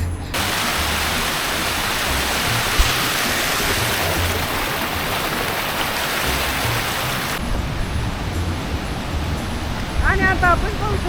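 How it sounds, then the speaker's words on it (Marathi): Monsoon waterfall at Bhandardara, Maharashtra, reached by a short muddy trek: a steady, loud broadband rush of falling water fills the whole clip, with brief voices near the end. "आहे इथे वॉटरफॉल"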